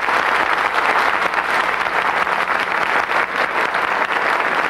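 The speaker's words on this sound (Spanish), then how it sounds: "no hay que adelantarse a los aplausos de ustedes, porque son unos aplausos merecidísimos" Steady applause from a large audience at a televised music program launching Claudia de Colombia's new album, a dense, loud wash of clapping that holds without a break.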